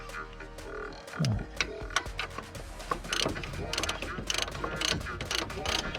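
Ratchet clicks and mechanical rattling as sway bar link nuts are tightened on a 2004-2015 Nissan Titan or Armada truck, with repeated quick clicking bursts close up and no talk.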